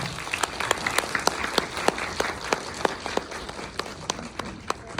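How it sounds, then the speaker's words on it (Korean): Audience at a film academy graduation screening applauding, steady dense clapping with a few sharp individual claps standing out, moderately near, no talk. "여러분 박수 부탁드릴게요."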